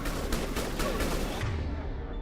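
Rapid gunfire from Mass Effect 3 Legendary Edition combat, a burst of several quick shots in a dense, loud rattle over battle noise, cutting off abruptly near the end.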